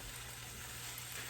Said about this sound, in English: So you just combine all of them together in this frying pan here. Stir them up until it's well incorporated.